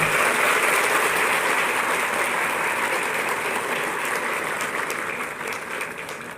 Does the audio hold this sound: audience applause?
yes